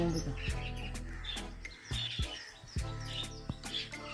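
Morning birds, including African parrots, keep up a loud clamor of squawks and chirps that overlap in quick bursts, nearby and continuous.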